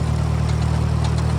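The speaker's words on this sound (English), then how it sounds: "It's a John Deere 2010 gas engine." A John Deere 2010 tractor with a gas engine runs steadily at a low, even throb, out in a hay field, constant and fairly loud with no talking.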